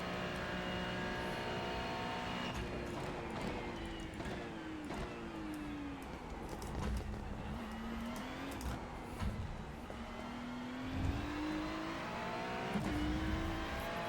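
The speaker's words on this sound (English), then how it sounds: "go full throttle here. No lifting, just full throttle." Race car engine at full throttle in the iRacing sim at Spa-Francorchamps, a steady loud drone with rising and falling pitch sweeps through gear changes, continuous for the whole stretch.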